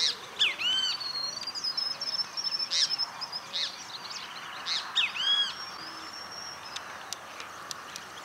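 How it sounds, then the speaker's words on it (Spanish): Several birds call and whistle outdoors around privet trees in Esperanza, Santa Fe, Argentina, among them a picazuro pigeon, a boyerito and a naranjero: bright overlapping chirps, rising whistles and trills in clustered bursts, then thinning out to sparse faint notes. "Desde la paloma picazuro y el boyerito hasta uno de vistosos colores como el naranjero."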